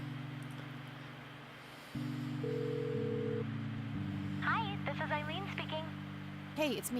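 Telephone dialing in the Kathy Rain detective game: a run of steady keypad tones changing pitch in stepped sequence, followed by a voice speaking over the line near the end.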